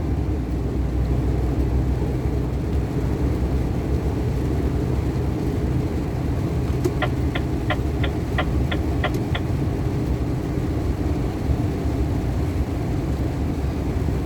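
A Renault T 460 truck engine rumbles steadily and loud while driving on the road, a continuous low drone with a brief series of faint evenly spaced clicks partway through.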